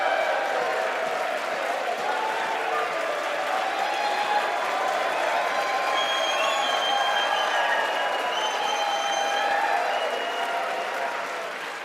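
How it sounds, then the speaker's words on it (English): Generous applause fills the House chamber, a dense, steady wash of many hands clapping with occasional cheers, sustained at moderate distance and tapering slightly at the end. "Thank you for that very generous applause."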